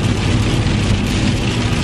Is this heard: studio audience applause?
no